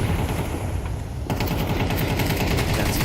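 Rapid Tec-9 pistol fire in a Counter-Strike esports match, a dense burst of sharp repeated shots that abruptly intensifies midway, loud and continuous with no commentary over it.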